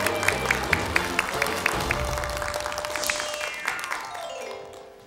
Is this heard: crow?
no